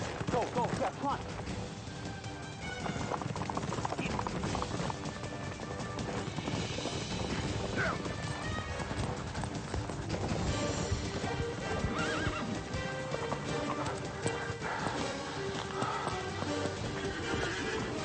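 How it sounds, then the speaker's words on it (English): Horses galloping hard with loud, rapid hoofbeats, punctuated by neighs and whinnies during a chase, close and busy throughout. "Horses, horses, horses."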